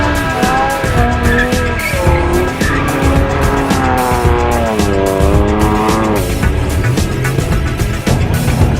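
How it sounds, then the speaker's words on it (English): A rally car doing a burnout in a forest parking lot, a loud, continuous wavering tire squeal over a roaring engine, close and unbroken. "Hey, that's how you do a burnout, buddy"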